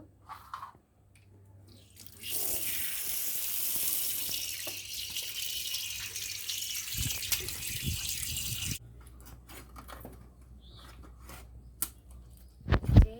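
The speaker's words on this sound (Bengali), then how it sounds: "এবার মাছটা ভালো করে ধুয়ে নেব" Running tap water pours loudly over a freshly scaled rohu fish for several seconds, then stops, leaving drips, wet handling and a few clattering knocks.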